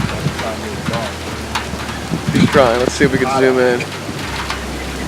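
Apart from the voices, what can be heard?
rain falling outdoors during a thunderstorm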